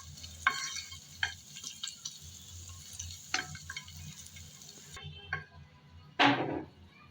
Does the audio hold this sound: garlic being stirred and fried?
yes